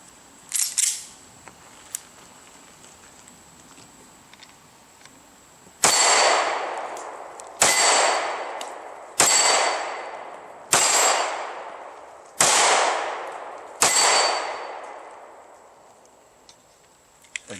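Six loud gunshots from a .40 S&W M&P Shield pistol firing 165 grain ammunition, spaced about a second and a half apart, each a sharp near crack with a short decaying tail, after a few faint clicks.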